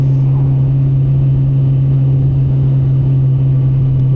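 Motorcycle engine held in second gear while engine braking down a steep hill, a loud, steady close-up drone with a strong low hum that stays even throughout.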